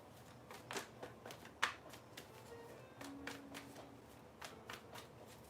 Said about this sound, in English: Let me go ahead and mix these cards up.